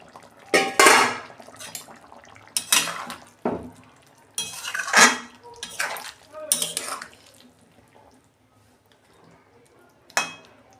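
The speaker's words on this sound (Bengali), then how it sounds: "ঢাকনা খুলছি।" A pot lid lifted off a simmering pan of raw jackfruit and potato, with intermittent metallic clatters and scrapes of utensils against cookware, close and sporadic with quiet gaps between.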